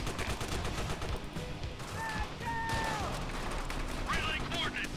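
Gunfire and battle noise from Call of Duty: World at War, with rapid shots and mechanical clatter running throughout, under shouted voices and radio-style chatter.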